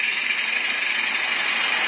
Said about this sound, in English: So let's start the loco.